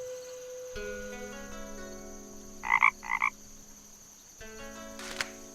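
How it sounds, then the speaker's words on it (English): Two short bursts of frog croaking from the video game Night of the Rabbit, each a quick pair of pulses standing out over a soft layer of game music and ambient tones. "Is that a frog I hear?"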